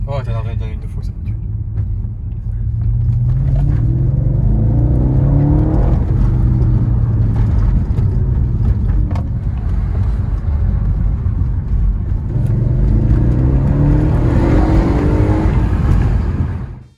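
An Audi RS4 with a 450 hp V8 rumbles loudly and revs hard, with a deep, sustained engine roar and rising and falling pitch right up close for the whole stretch.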